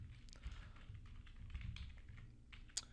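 Quiet, close keystrokes patter on a computer keyboard in short irregular runs, as a URL is typed into a file-transfer site setup.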